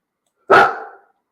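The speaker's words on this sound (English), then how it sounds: "Like when the dog's barking, I can't think straight either." A single loud, sharp bark from a dog indoors, close by and alone, ending abruptly in silence.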